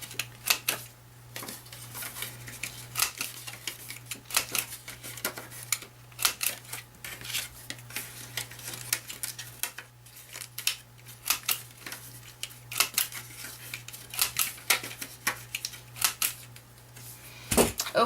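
A handheld corner rounder punch clips the corners of paper card pieces, a string of sharp, quiet clicks and snaps at an uneven pace over a low steady hum.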